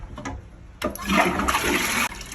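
A toilet flushes in a home bathroom in France: a sharp start, then a loud rushing swirl of water for about a second and a half before cutting off abruptly, close and alone.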